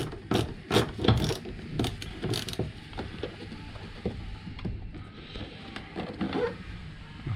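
Hidden Phillips screw being unscrewed from a Lexus NX300h front door card, with a series of short clicking, ratcheting turns and light plastic rubbing close by, no talking.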